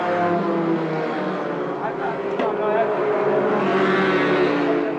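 Mini stock race cars pulling away at the start of a feature race at a speedway, a loud roar of engines accelerating together over a track announcer's voice.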